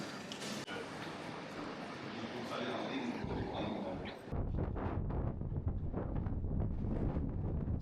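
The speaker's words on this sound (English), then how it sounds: "Very windy out here now." Strong wind roars and buffets outdoors at a ferry terminal, making a steady rough rush that turns louder and harsher partway through, with a faint voice beneath it.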